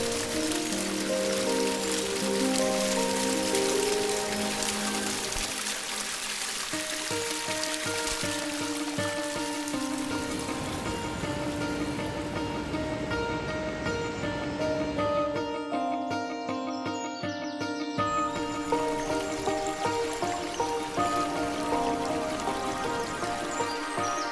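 The Parvati river near Kasol and Chalal in the Himalayan valley flows as a continuous broadband rush of water, steady and moderately close, partly overlaid by soft music.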